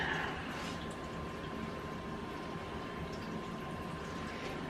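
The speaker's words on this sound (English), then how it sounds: "If you hear water running, that's my cat's water dish." A cat's fountain water dish runs steadily like a little waterfall, giving a faint, continuous trickle and hiss throughout, with a low hum from the pump beneath it.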